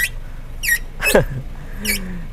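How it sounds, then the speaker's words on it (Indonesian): Rats or mice inside the door of a Honda Mobilio car, giving a few sharp high squeaks and chirps spaced out over a couple of seconds, fairly close and clear. "Ada tikusnya di pintu."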